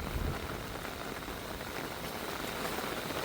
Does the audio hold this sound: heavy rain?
yes